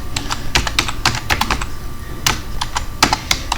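Code is being typed on a computer keyboard in quick irregular bursts of crisp key clicks, close and distinct, with brief pauses between flurries.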